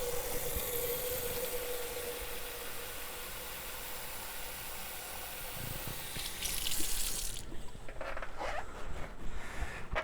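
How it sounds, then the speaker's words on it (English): Water running and sloshing as a mixing container is rinsed out before casting hydrocal, a steady broadband wash that grows louder and splashier near the end, with no talking. "I'm gonna rinse it out a little bit."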